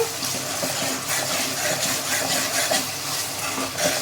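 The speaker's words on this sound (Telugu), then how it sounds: "పచ్చివాసన పోయే వరకు అయితే ఫ్రై చేసుకున్నాము" Onions, green chillies and ginger garlic paste fry in oil for a Sunday chicken gravy curry, producing a continuous loud crackling sizzle with faint stirring scrapes, close by and without pause.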